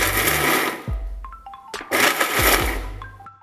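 An electric mixer grinder grinds almonds and peanuts in loud, whirring bursts that rise and stop abruptly in two pulses, with clicks and a tonal beep between them.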